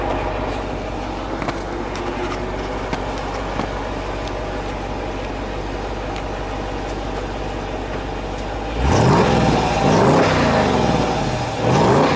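A 2016 Jeep Grand Cherokee SRT engine hums at a steady idle for several seconds, then breaks into louder, repeated revs with rising and falling pitch toward the end.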